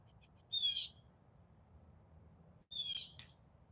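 Birds call somewhere overhead during an outdoor walk, two short bright chirping bursts about two seconds apart, fairly distant and alone over a low background hum.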